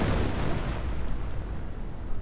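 Mortar explosions in a WWII strategy video game, a dense, continuous rumbling roar of blasts, loud and low, gradually thinning toward the end.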